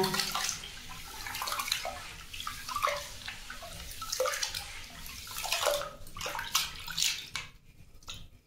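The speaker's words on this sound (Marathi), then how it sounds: "स्वच्छ कसा नागली धुवून चुळून घ्यायची" Finger millet grain is swished and rubbed by hand in a vessel of water, producing close, irregular sloshing and splashing that fades near the end.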